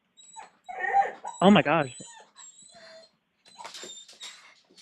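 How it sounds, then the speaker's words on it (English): A loud dog whimpering and yipping indoors in short high-pitched bursts with a sharp loud cry in the middle, close by, while a person talks between the sounds. "That's a loud dog."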